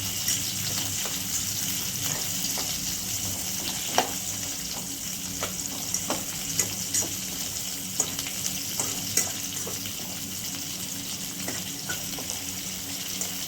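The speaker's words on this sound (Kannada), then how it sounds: "ಈಗ ಈರುಳ್ಳಿ ಹಾಕೊಳ್ತಿದ್ದೀನಿ, ಅದು ಸ್ವಲ್ಪ ಫ್ರೈ ಆಗಲಿ" Onions frying in a pan for brinjal masala, a steady close sizzle with regular stirring clicks and scrapes of a spoon against the pan.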